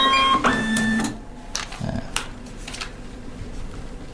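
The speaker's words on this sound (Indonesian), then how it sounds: "Kita nyalakan kembali printernya." A Kassen E460 label printer powering back on, giving a short whir and mechanical feed sound in the first second, followed by quieter clicks and faint handling noise.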